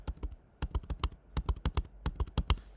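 Rapid clicks of someone typing card details on a computer keyboard, a quick irregular run of keystrokes with a brief pause, close and clear with no talking.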